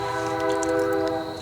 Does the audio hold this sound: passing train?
yes